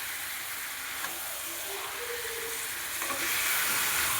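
Chicken frying in a pan for a spiced chicken kosha, a steady loud sizzle and hiss with brief scraping stirs, close and continuous.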